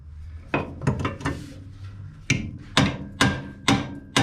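A hammer strikes a stuck joint on a 1961 Ford Falcon Delivery, landing about eight sharp metallic blows in an uneven rhythm, close and loud.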